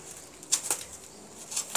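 A sick pigeon that cannot fly gives a few brief bursts of wing flapping, close by, in short flurries separated by quiet pauses.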